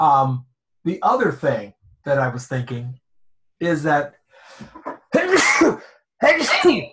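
A single sharp sneeze breaking into a person's speech, loud and close, with talking before and after it.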